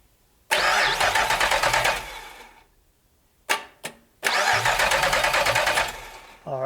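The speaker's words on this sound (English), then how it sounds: "All right, it cranks." LS V8 engine swapped into a Toyota Celica cranks on the starter without firing: a loud, close, rhythmic whirring burst, a pause, two short clicks, then another long cranking run that trails off.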